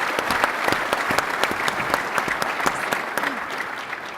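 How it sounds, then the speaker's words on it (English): Sustained audience applause fills a conference hall at an opening welcome session, dense and steady with sharp individual claps popping through for the full stretch, no voices rising above it. "So please give them a round of applause."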